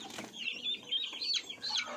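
One-month-old pure desi chicks peeping while being handled and weighed; a string of high, close chirps in short repeated bursts, with faint handling noise and no talk.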